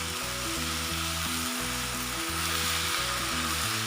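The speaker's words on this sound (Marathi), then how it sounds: "तर आता याच्यामध्ये आपण मेथी घालून घेऊयात आणि ही मेथी आपल्याला थोडा वेळ परतून" Fenugreek leaves sauté with garlic in a pan, a continuous bright sizzle and fry hiss, steady and close, under a layer of sustained background music with no talking.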